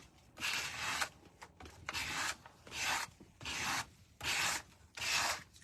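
Six rhythmic strokes of a 60-grit sanding block rasping across paper on a three-tier decoupage stand, each burst about half a second long with short pauses between, close and fairly quiet.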